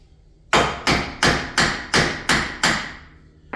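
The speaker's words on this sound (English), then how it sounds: "Try not to beat on the axle too hard on the end because it will mushroom it and you can't reuse the axles." Seven loud metallic hammer blows strike the end of a car axle on a 1994 Honda EG/EJ during a D15B7 engine removal, evenly spaced and ringing briefly, close by with no talking.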